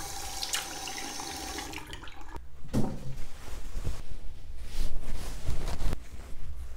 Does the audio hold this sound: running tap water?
yes